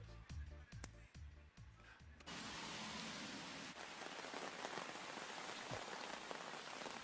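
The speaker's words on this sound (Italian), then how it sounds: "Ah, ma piove davvero?" Steady rain falls and hisses across a surface, starting abruptly after a few seconds of rhythmic strummed music, then continuing as a dense, even wash of droplets with faint voices underneath.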